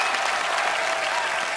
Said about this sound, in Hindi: तो आप सबकी जोरदार तालियों के बीच इनवाइट करना चाहूंगा the very talented mister Abhay Deol